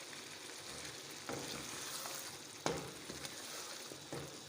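Mutton chops frying in a pan for a chops gravy, giving a steady broad sizzle with occasional soft stirring knocks and one sharper clack, moderately close and with no talking.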